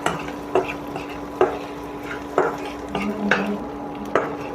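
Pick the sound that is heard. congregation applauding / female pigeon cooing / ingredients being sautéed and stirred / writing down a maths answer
ingredients being sautéed and stirred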